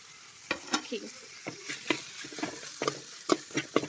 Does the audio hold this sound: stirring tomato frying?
yes